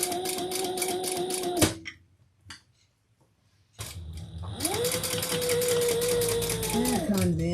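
A sewing machine stitches a slippery vinyl handbag, its motor whining loudly in a steady run, stopping for about two seconds of near silence, then starting again for a long, even stretch of stitching.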